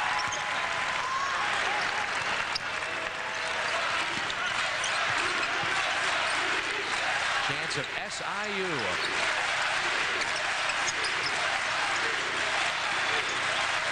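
Big arena crowd at a Southern Illinois versus Wichita State college basketball game cheers and applauds continuously in the closing seconds, a dense roar with ball bounces underneath and a commentator talking over it.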